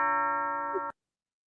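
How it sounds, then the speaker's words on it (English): A doorbell chimes once with a sustained, bright multi-tone ring that holds steadily before cutting off abruptly into silence, close and clear with no voices. "my little mansion bell is ringing because Elise"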